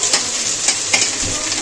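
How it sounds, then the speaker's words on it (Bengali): Egg and onion, fried with chilli and black cumin, hiss and sizzle loudly in a wok while a utensil stirs through them, with a few scraping strokes over a steady crackle. "ফের একটু নেড়ে চেড়ে নিলাম।"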